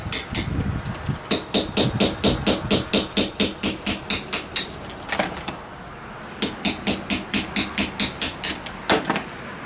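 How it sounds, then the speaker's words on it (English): Hammer blows drive a chisel into rough stone close to the edge of a slab, during a doorbell installation on a stone wall: crisp, sharp metallic strikes in steady rapid bursts separated by short pauses, loud and close. "I'm chiseling real close to the edge"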